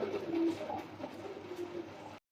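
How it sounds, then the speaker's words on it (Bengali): A red checker racer pigeon gives a low, soft, rolling coo, close and fairly quiet, over about two seconds with no talk. "এখানে আরো একজন রেসার কবুতর আর এটা হচ্ছে রেড চেকার রেসার"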